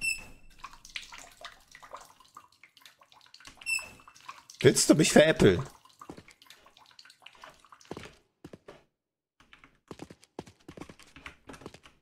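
A weak shower trickle in the video game The Killing Antidote gives a brief spattering burst of about a second. Someone speaks around it, and keyboard clicks are heard.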